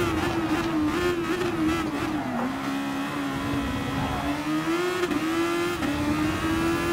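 Super Formula race car engine in Gran Turismo Sport droning at high, steady revs with a whining note that dips slightly and climbs again, loud and continuous with faint tyre and shift clicks.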